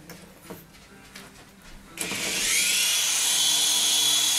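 Syma S111G RC helicopter whose rotor spools up: a quiet mechanical whir at first, then a sudden rise into a loud, steady high-pitched motor whine with blade hum, close to the listener and without speech.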